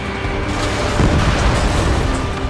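A UAV is shot down and explodes in the flight combat game Ace Combat 7, giving a loud, sustained booming blast that swells about a second in and rumbles on with mechanical noise.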